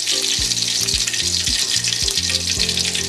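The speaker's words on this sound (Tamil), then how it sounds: "நெய்யை நல்லா உருக்கிட்டு" Cow's ghee melting and sizzling in a pan for carrot halwa, a steady loud frying hiss filling the whole clip with faint low clinks of utensils underneath.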